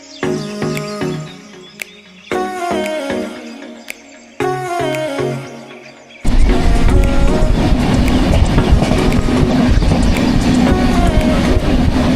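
Train passing near Karjat, opening with melodic music-like tones before a loud rumbling, clattering wash of rail noise takes over for the second half.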